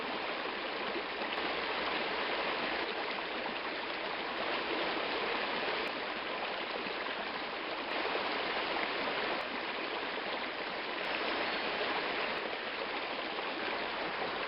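A small river flows in a steady, continuous rush of water that stays even and fairly loud from start to finish, with no voices over it.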